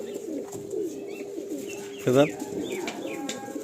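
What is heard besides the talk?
Teddy pigeons cooing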